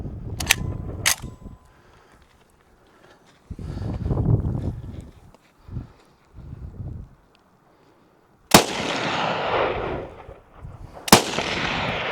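Two sharp, loud 7.62x54 World War-era wooden rifle shots ring out in the Arizona desert near the end, each with a long rolling echo, after several seconds of quieter handling noises and muffled thumps.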